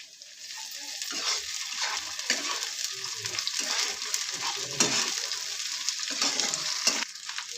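Ginger garlic paste hits a hot frying pan and sizzles loudly and steadily while being stirred, with scraping and clinking strokes scattered through the sizzle, close up and without talk.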